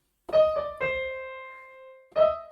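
Keyboard plays the yellow, green and blue parts of a song as a few sustained notes and chords, clear and close, with a long held tone in the middle and a fresh chord at the end, no talking.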